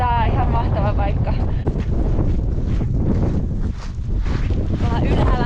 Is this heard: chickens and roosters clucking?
no